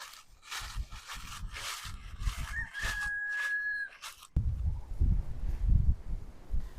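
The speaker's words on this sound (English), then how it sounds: "We are out here with the turkeys and the chickens." Chickens and turkeys clucking and calling nearby in a greenhouse, one drawn-out crowing note in the middle, then a rustling, shuffling movement noise takes over.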